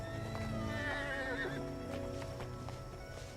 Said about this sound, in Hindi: अभी के लिए तुम हमारे घोड़ा पर आओ।